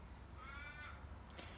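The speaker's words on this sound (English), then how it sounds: "That's a crow, guys. Making noise." A single crow gives a short, harsh caw, moderately distant and fairly faint, over a steady low background hum with no talking.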